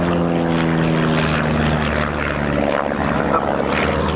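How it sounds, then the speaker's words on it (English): A de Havilland Chipmunk propeller aircraft makes a display crossover at the RAF Cosford air show, its piston engine and propeller giving a loud, steady droning buzz close overhead with no voices. "The Chipmunk was always a super display aeroplane as they come in for a crossover."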